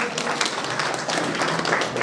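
Audience applause for a dhun devotional singing group at a Prajapati community mass wedding gathering, a dense, steady patter of many hands clapping at once, fairly close and sustained without talk.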